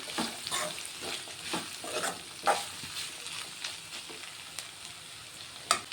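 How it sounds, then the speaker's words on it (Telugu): Broad beans (chikkudukaya) frying in a village-style pan, a constant sizzle with repeated scraping stirs and a few sharp clinks of the spoon against the metal. "చిక్కుడుగాయలు అయితే మంచిగా ఫ్రై అయిపోతున్నాయి"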